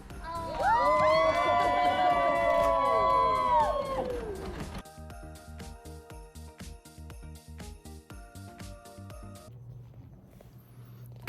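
Wedding guests at The Oaks at Duncan Lane cheer and whoop loudly for the couple for about four seconds, a burst of overlapping shouts that then gives way to quieter rhythmic clattering and background sound.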